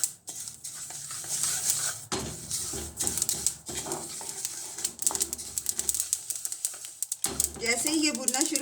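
Flax seeds dry roasting and being stirred in a pan, giving repeated light crackles and scraping clinks close up, with a voice speaking over much of it.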